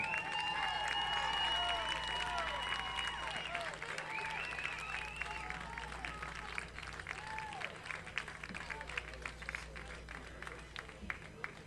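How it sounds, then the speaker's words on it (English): Spectators at a Florida vs. Lexington baseball event applaud the host team, scattered clapping and faint cheers at a distance beneath a continuous tonal hum and ambient crowd noise. "Will everyone please give Lexington National one more big round of applause for the host team"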